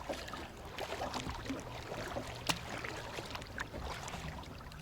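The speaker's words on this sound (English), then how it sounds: "So now I'm just kayaking out here just to enjoy it for a little bit" A kayak glides on open water at sunset, with soft repeated paddle splashes and one sharper dip, heard faintly and close against light wind and water wash, no voices.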